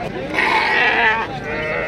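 A sheep bleats at a livestock market in Fes, Morocco, where ewes and lambs are on sale. One loud, drawn-out, wavering bleat lasts nearly two seconds and sounds close, with faint market noise behind it.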